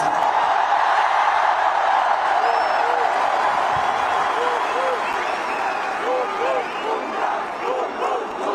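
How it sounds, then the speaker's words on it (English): A huge stadium crowd roars and applauds for Jasprit Bumrah at a 2024 cricket World Cup victory celebration, a continuous wash of cheering, clapping and whoops with a voice over a loudspeaker, carrying through the whole stretch. "A huge round of applause to Jasprit Bumrah, please."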